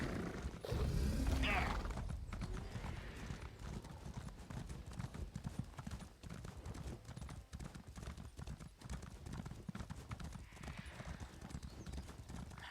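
Regular horse trotting in a video game, steady hoof clip-clops ticking along at an even pace under game ambience, one louder burst near the start.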